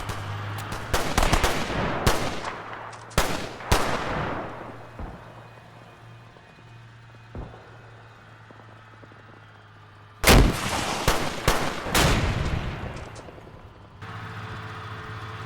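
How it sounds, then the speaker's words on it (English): Platoon gunfire in Combat Mission Cold War, sharp loud gunshot bursts and rapid volleys in clusters with quieter gaps, a low engine hum underneath, and a renewed salvo of close shots near the end. "This platoon just trying to put down some fire on various contacts"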